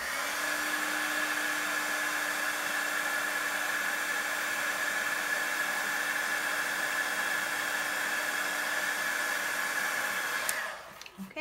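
A heat tool blows hot air onto a handmade Christmas card in a steady, close hiss and whir with a faint high tone, running for about ten seconds before cutting off abruptly.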